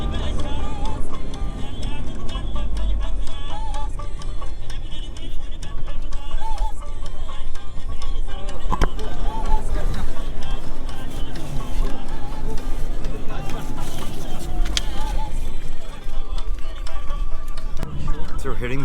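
A car jolts off-road over rocky, bumpy desert ground in Mauritania, its engine and the rattling of the body droning steadily and loudly throughout, with occasional knocks and thumps from the rough surface and talk at times over the noise.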